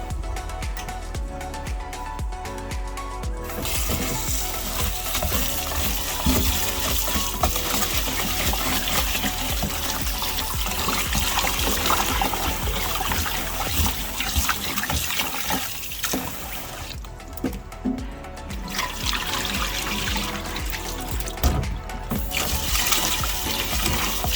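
Dasheen bush leaves rinsed under running water, a steady trickle and splash continuing throughout with occasional clinks and brief pauses, no talking.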